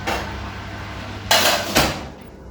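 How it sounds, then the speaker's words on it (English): Hot oil in a metal baking tray being pulled from an oven while cooking chilli cornbread: a low background hum, then two sharp metallic clanks of the tray against the oven rack, close and distinct. "I need to get the oil back out of the oven"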